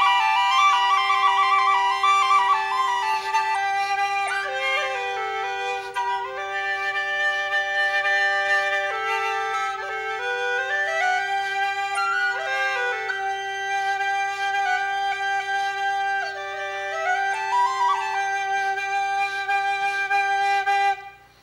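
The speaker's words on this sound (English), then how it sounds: "That's the sound of the donali." A donali, a double pipe wind instrument, plays a sustained reedy drone under a wandering melody, loud and close, continuous for about twenty seconds before cutting off.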